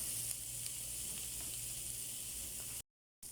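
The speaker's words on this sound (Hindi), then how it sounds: "अब हमने इसमें डाल दिया है बेल पेपर और इसको हम थोड़ी देर के लिए सॉटे होने देंगे" Bell pepper sautéing in a pan with chicken tikka masala, salt and black pepper for a puff pastry filling, giving a soft, steady sizzling hiss with a few faint stirring taps before a short dropout.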